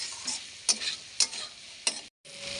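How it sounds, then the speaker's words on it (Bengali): Fried masala for pea curry sizzling in a pan: a soft hiss punctuated by a few sharp, bright stirring scrapes and crackles, then a short gap before the sizzle resumes. "দেখুন এবার জল দিয়ে দিচ্ছি, কারণ এই যে মশলার থেকে তেল ছেড়ে গেছে।"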